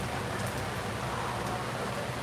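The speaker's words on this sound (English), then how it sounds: "it's raining a whole lot. It's been raining for like the past hour consistently." Heavy rain falls across from a restaurant at the Kings Dominion amusement park, a dense, even wash of hiss at constant loudness with no talking.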